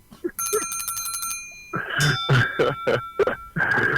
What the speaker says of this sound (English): I know you can hear the bell.